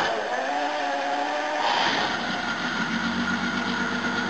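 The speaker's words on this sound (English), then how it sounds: "I'm just going to start it now and see how bad it runs" A Jaguar XJ12 V12 engine runs cold on only ten cylinders, a loud, close, continuous rough drone with an uneven, lumpy undertone.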